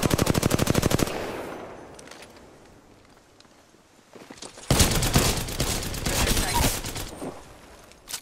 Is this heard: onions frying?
no